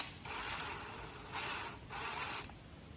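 An impact driver with a 5mm Allen bit works on a bolt in the suspension of a 2020 Honda CRF110 dirt bike. It gives three fairly quiet bursts of rapid, rattling hammering, separated by short pauses.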